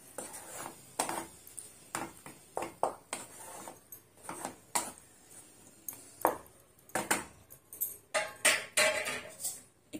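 Metal clinks and clatters around a cooking pot for Rajma curry as a lid is set on, a long run of sharp, irregular taps and rattles at moderate distance.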